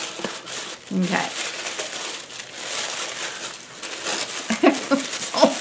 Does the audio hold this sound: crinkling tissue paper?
yes